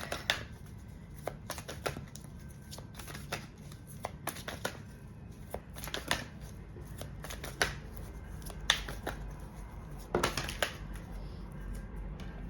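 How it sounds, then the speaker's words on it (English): Tarot cards shuffled by hand at close range, a run of quick riffling bursts and taps with a few louder flurries as cards slip out, over a low background hum and no talk. "too many cards flying out here for you guys"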